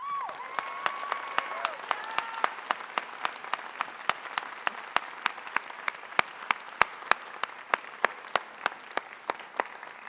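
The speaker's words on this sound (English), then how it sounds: "Please join me now in applauding your parents" Graduation ceremony audience gives sustained applause, a steady wash of many hands with sharp individual claps standing out near the microphone, while a voice speaks briefly at the start and a few faint voices murmur through the crowd.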